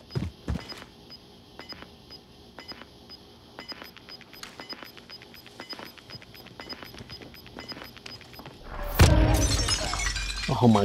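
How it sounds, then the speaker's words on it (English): Window glass shattering in a battle royale video game, a sudden loud crash near the end after a stretch of quiet game sounds and faint ticking footsteps. "Oh my god, you had to break the glass."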